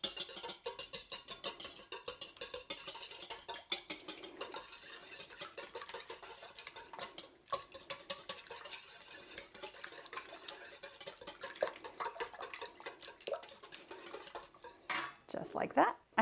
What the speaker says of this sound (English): And that is 16 eggs that I'm going to whisk together.